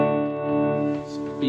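An electric guitar rings out sustained chords through a tremolo pedal on a budget worship pedalboard, its volume swelling and dipping in a slow pulsing rhythm over a short phrase.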